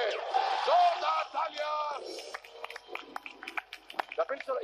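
A comedy show studio audience erupts with whoops and cheers, which give way to scattered, uneven clapping that rises and falls over several seconds.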